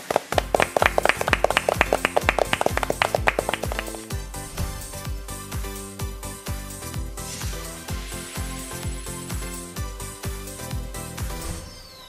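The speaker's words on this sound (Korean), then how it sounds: "박수로 맞아주세요" An audience claps in welcome for a lecturer at a real estate law class, a burst of sharp individual claps at first that settles into steady, continuous applause.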